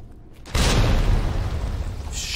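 A grenade explodes in Resident Evil 2 Remake, one loud booming blast that starts abruptly and rumbles on with a long, heavy decay.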